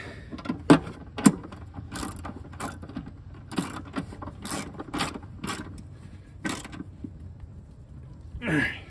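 A ratchet turns a 13 mm socket to tighten two bolts holding a second battery tray to the fender of a Toyota 4Runner, with a string of quick, close mechanical clicks, a few sharper and louder than the rest.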